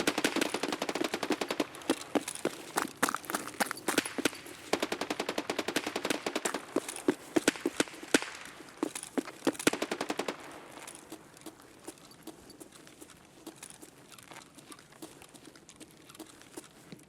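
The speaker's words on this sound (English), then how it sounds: "I'm pretty sure that's where most of the shots came from" Dense bursts of automatic gunfire from the shooter game Escape from Tarkov rattle for about ten seconds and then thin into scattered, quieter shots, with no one speaking.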